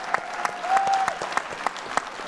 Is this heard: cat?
no